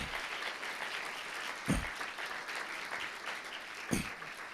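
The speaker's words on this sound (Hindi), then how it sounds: "तालियां बजाएं।" A church congregation claps together during a New Year sermon, a steady broadband patter of many hands at moderate distance, with a couple of louder thumps standing out.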